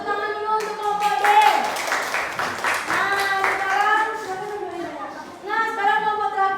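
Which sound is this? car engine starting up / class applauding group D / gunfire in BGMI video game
class applauding group D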